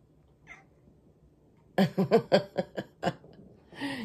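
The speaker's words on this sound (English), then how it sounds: "He is mainly an indoor cat." An indoor cat lets out a burst of loud, close meows and chattering vocal pulses in quick succession, following a quieter stretch with a faint earlier call.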